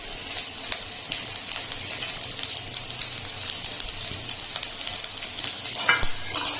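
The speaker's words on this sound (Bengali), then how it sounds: "রসুন আর কালো জিরেটাকে একটু নেড়ে নেব।" Garlic and nigella seeds stir-fry in hot oil, giving a steady crackling sizzle with frequent scraping stirs that grow busier near the end; nobody speaks.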